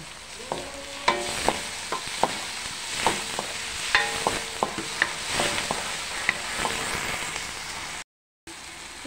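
Tomatoes frying in a hot pan for chicken minudo, a steady sizzle broken by repeated sharp scrapes and clinks of stirring, close and fairly loud, with a brief dropout near the end.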